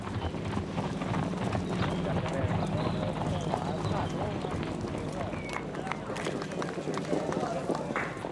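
Trotting horses in a harness race drum out a rapid, continuous patter of hoofbeats with wind noise, under a narrating voice.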